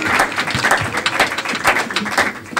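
A church congregation applauds steadily and loudly, with rhythmic clapping filling the room throughout.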